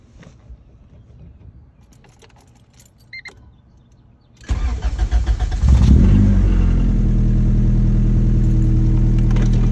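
A hatchback's engine cold-starts after a cam seal and timing job, catching abruptly and revving loud before holding a high, steady idle up close, with faint clicks and rattles beforehand.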